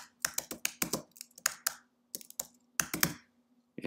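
Keys clatter on a computer keyboard in quick bursts of taps separated by short pauses, close and fairly quiet, with no talking.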